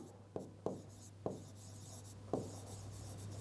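A pen scratches across paper in a few distinct strokes with small taps between them while an accounting practice problem is worked out. The sound is close and fairly quiet, with no talking.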